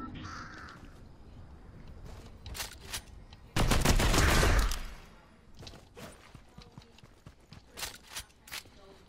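A crow caws in a video game, a few harsh calls scattered across a busy background with footsteps and clatter, plus a loud burst of noise in the middle.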